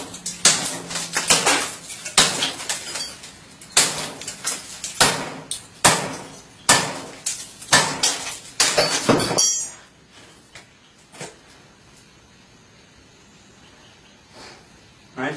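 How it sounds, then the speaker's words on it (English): A hammer hammers a knife blade down to split a brick: a rapid series of sharp, loud metallic clanks at uneven intervals for about nine seconds, then near silence with a couple of faint knocks. "So let's go ahead and try the hammer and try to split right through it"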